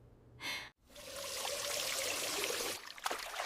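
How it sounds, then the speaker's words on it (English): Tap water running steadily into a sink during face washing, a continuous close hiss that starts after a brief breath-like sound and stops near the end. "I wash my face."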